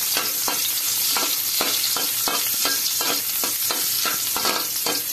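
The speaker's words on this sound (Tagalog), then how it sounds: "Lagyan na natin ng bawang. Next naman, ang ating sibuyas." Garlic and onion frying in hot oil for ginataang gulay, a steady close sizzle with repeated scraping stirs every half second or so, no talk.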